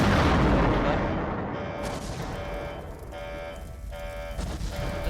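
A generator explosion in the horror game The Glitched Attraction: a loud roaring blast that slowly decays into a sustained rumble, with faint alarm-like tones ringing underneath.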